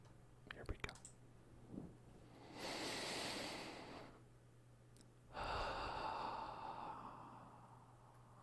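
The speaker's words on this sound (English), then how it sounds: "We're going to breathe in and out like that" Deep breathing in and out during a guided exercise, two long broad breaths each lasting about one and a half to two seconds, close and soft, with faint clicks before them.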